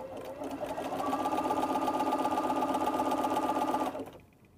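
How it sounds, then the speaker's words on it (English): A sewing machine runs a zigzag stitch at about width 3, a steady, fast mechanical chatter of the needle swinging side to side for several seconds before it stops abruptly. "All it is the needle moving side to side while doing a straight stitch."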